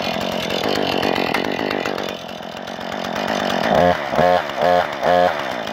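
A Husqvarna 440 chainsaw engine runs loud and close with its chain brake engaged, a steady buzzing drone that later breaks into four rhythmic revving surges near the end.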